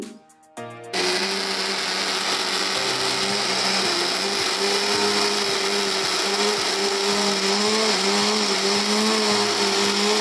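A mixer grinder runs steadily at close range, blending garlic and ginger with water into a smooth paste; a brief clatter opens before the motor settles into a loud, continuous whirring drone.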